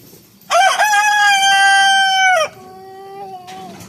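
A rooster on a homestead crows one long, loud cock-a-doodle-doo up close, followed by a fainter second crow from another bird further off, with no talking.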